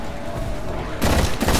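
Gunfire in the Titanfall video game on Xbox One: a dense rattle of game combat noise, then a sudden loud blast of shots near the end with a second burst just after.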